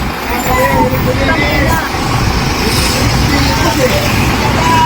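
Heavy truck traffic rumbles loudly and continuously on a road nearby, with engine drone and road noise under overlapping talk.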